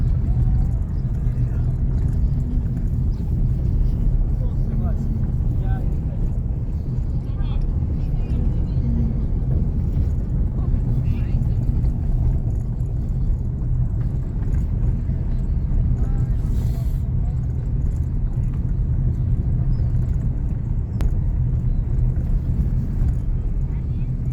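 Steady car interior rumble while driving on city roads in Lisbon, Portugal, a continuous low engine and road drone with faint voices talking underneath throughout.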